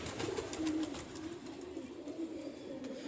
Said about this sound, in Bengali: দেখতে পাচ্ছ চারিদিকে সব দেখো গোলা পায়রা উড়ে গেল।